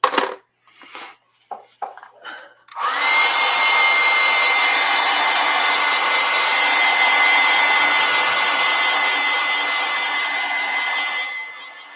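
A hair dryer drying fresh acrylic paint on a canvas starts after a few quick taps and clatters, then blows loud and steady at close range for about nine seconds, with no talking.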